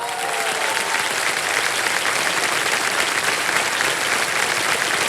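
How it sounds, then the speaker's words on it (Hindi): Studio audience applause for a contestant on Kaun Banega Crorepati, a loud, dense and continuous roar of many hands clapping at a steady level throughout. "तालियां बज जाए इनके लिए।"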